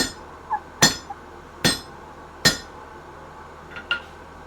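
Hand hammer forging nails at an anvil: three loud, evenly spaced ringing metal strikes, with a few lighter taps before and after.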